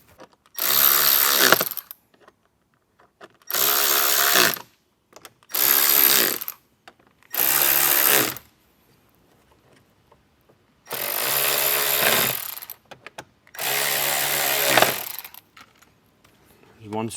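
A power drill takes screws out of a speaker trim panel on a 2024+ Jeep Wrangler. It whines loud and close in six separate bursts of one to two seconds each, with silent gaps in between.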